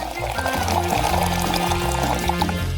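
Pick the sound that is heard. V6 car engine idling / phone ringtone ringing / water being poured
water being poured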